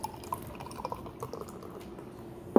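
Belgian wit beer poured into a glass, a soft gurgling, dripping liquid stream with scattered small splashes, fairly quiet and close, ending in a louder clink or splash.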